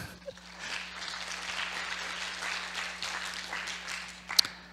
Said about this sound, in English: give me a clap, please.